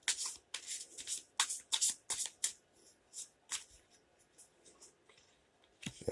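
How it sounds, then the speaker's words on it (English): Tarot cards are shuffled in quick bursts of crisp riffling and flicking, several short rustles close by with brief pauses between them, with no talking. "Now let's do a quick shuffle."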